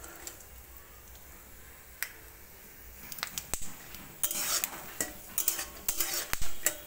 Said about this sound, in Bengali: বাদামটা ভাজতে হবে, খেয়াল রাখতে হবে যাতে বাদামটা না পুড়ে যায়।